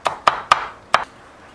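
Knife coarsely chopping garlic on a cutting board, four crisp close taps in an uneven quick rhythm, the last one doubled, then quiet.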